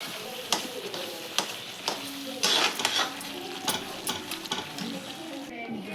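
Papad or other food being dry-roasted in a pan in a home kitchen, with steady scraping stir strokes and a soft sizzle, close and moderately loud, some clatter of utensils, no talk.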